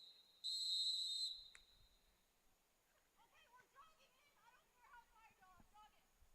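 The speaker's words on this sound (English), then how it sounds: "is going to be the halftime whistle" Referee's whistle blown for halftime at a freshman girls' soccer game, one long loud blast followed by a short chirp, then distant chatter and birdsong in the open air.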